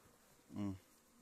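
A single honey bee buzzes close by for a moment near a swarm in a forest, a brief droning hum that swells and fades against quiet background.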